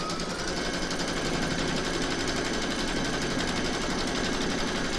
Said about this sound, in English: you're going to stitch round number one to give you your placement outline